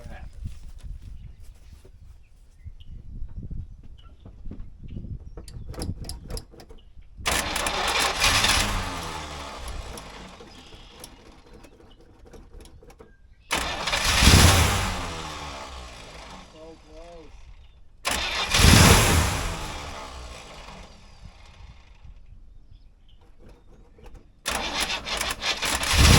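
An old Chevy square body farm truck that had been sitting for 15 years cranks over in several loud bursts, each attempt separated by quieter pauses, with people talking in between.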